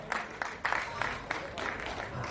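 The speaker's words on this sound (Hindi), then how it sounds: "जोरदार तालियों की गड़गड़ाहट हो जाए दोस्तों" Crowd applause at an award event with a screenwriter and film director, bursts of clapping rising and falling in short waves, fairly close, with a voice talking over it.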